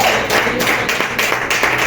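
A church congregation claps in praise, a fast, steady rhythm of many hands close by, filling the short moment with no voices over it.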